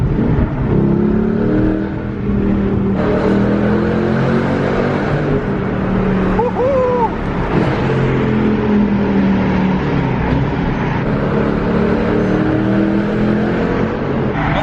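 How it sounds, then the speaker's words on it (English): A V8 engine swapped into a Porsche 911 Carrera revs and drones loudly and steadily for the whole stretch, with a low, sustained rumble and rising and falling pitch as the throttle changes. "That's so bizarre hearing the sound in a 911. We've done it, we've heard it with the 944, but in a 911 Carrera to hear a V8."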